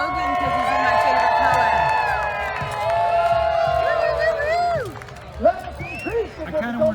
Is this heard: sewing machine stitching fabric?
no